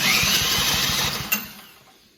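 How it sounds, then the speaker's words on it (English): A corded drill whirs steadily as it spins the nut on a snowblower to turn the engine over, the motor buzzing loudly before stopping abruptly and winding down. "You basically just take a drill. I went with the corded option."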